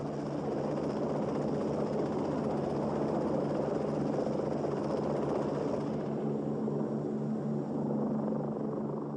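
Rotor and engine of a Lockheed experimental helicopter hovering, a loud, steady broadband drone with a low rhythmic beat that holds unbroken throughout, easing slightly in its upper hiss toward the end.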